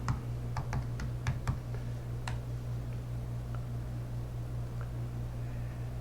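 Quick keyboard taps as a number and password are typed in, a short burst of clicks early on, then a few scattered keystrokes over a steady low hum.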